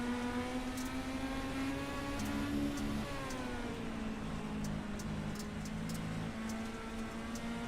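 Onboard a sprint car racing on the dirt track at Limaland, the engine holds a loud, steady high-pitched drone with rising and falling revs as the car works along the wall, heard close and continuous.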